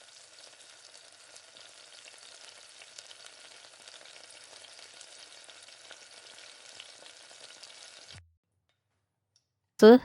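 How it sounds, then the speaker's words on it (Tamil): Curry leaves temper in hot oil as a faint, steady sizzle with light stirring that suddenly cuts off, leaving silence before a brief loud knock at the end. "கருவேப்பிலை போட்டு நல்லா தாளிச்சு"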